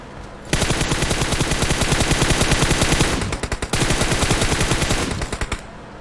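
Sustained automatic gunfire in the mobile battle royale game PUBG Mobile: rapid, dense bursts of loud shots running several seconds, a short pause with a few scattered rounds, then another long burst with no talking.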